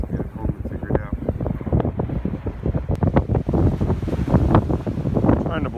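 Wind buffets a microphone on a beach in steady, gusty rumbling thumps with rushing air under it, loud and close throughout.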